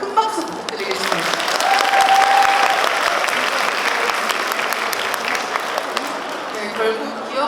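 Audience applause at a book fair talk event in Seoul, a sustained wash of clapping from a crowd, loud and even for several seconds, with a faint voice briefly audible in the mix.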